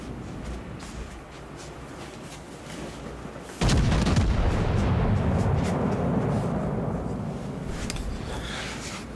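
Heavy naval gunfire from a Konig battleship in World of Warships Legends: after a quieter stretch, a loud booming salvo erupts and rumbles on as sustained low thunder for several seconds.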